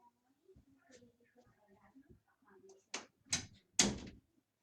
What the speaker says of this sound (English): I had to close my door.